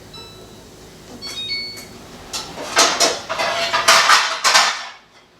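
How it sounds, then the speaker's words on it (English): Metal pans clatter and scrape together in a series of bright, clanking knocks that build up, close by, with no talking. "Then I'm going to get our little pizza pans"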